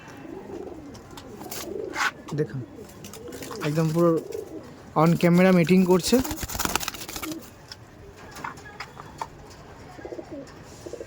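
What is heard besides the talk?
pigeons cooing in a loft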